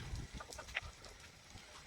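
Hens in a backyard coop on a rainy day give a few short, soft clucks at a middling distance, over low rumbling background noise.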